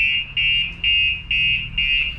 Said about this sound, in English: After a few seconds, what's going to happen is the alarm's going to go off.